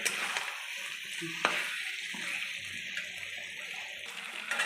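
Spice masala stir-fried in oil for a potol and prawn dish, sizzling in a steady hiss with a sharp scrape or clack near 1.5 seconds and faint stirring movements throughout, no voices.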